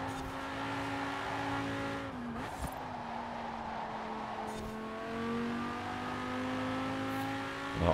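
Engine of an Italian V10 car driven in Forza Horizon 4, a steady sustained drone with a brief dip and gear shift partway, then smooth continued running and a slight rise in revs at the end, loud and without talk.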